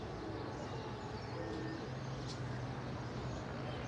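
Pigeons in an open-air flying session in Lucknow: faint soft cooing over a steady distant outdoor background, low and continuous, with a brief sharper call partway through.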